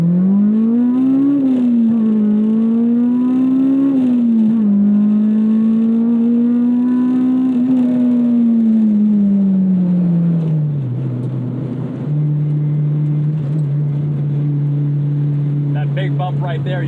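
A Honda K20 four-cylinder swapped into a light car pulls hard, its engine note climbing steadily through the revs for about ten seconds, then dropping and holding a steadier lower drone, close and loud.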